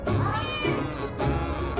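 A cat meows repeatedly at close range, with several drawn-out, wavering calls in a row during an indoor unboxing of a Larsen PO150 antenna.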